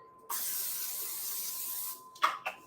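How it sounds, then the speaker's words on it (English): Cooking spray hisses steadily onto a small baking pan from a nearby aerosol can in one sustained burst of about a second and a half, followed by two short, sharper puffs. "We're going to spray this little pan."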